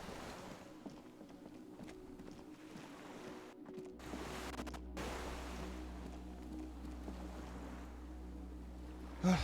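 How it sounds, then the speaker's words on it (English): A small skiff sways on waves in the game Disco Elysium: a soft wash of water and wind with low creaks and a deep rumble that swells partway through, quiet and ambient with no speech. "The skiff is swaying on the waves."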